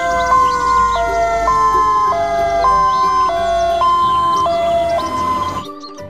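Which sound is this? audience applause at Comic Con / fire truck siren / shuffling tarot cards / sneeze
fire truck siren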